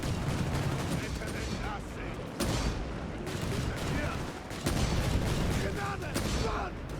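Heavy gunfire and explosions in the Company of Heroes 3 strategy game rumble in a continuous, dense barrage with repeated sharp bursts, under a commentator's voice.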